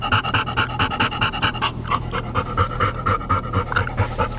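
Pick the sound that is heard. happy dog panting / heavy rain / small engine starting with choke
happy dog panting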